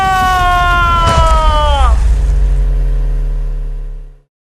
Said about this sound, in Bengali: ডাইনি তার বাইকের স্পিড বাড়িয়ে লালুর বাইকের পেছনে জোরে ধাক্কা মারে